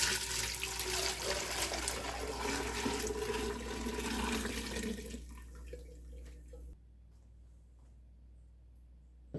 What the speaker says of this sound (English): I'm going to strain off the broth from the fish to get all the bones